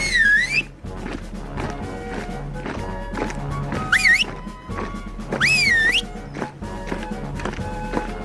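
A shrill rising-and-falling whistle sounds in three separate bursts to call a flock of sheep to feed, over a busy cartoon soundtrack of music, clopping and thumping noises.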